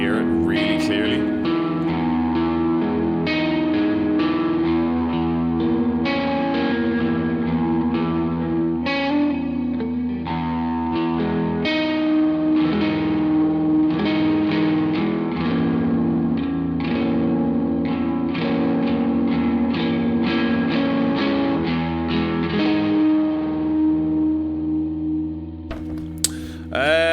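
Electric guitar run through an OBNE Screen Violence pedal at maximum violence on its low gain setting, a dense, sustained distorted wash with reverb and echo, loud and continuous throughout with no talking.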